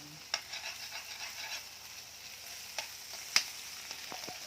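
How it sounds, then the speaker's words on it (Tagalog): Ham sautéing in a pan gives a soft, steady sizzle, with a few sharp clinks and stirring taps from a utensil, close but fairly quiet. "Gigisa-gisahin lang natin ang ating ham."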